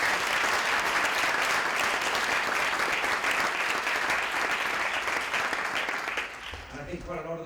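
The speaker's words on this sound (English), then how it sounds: "So that's the first round of applause." A room full of people applauds sponsors at a panel talk on globalisation, a long even wash of clapping that thins and fades near the end as a voice begins speaking.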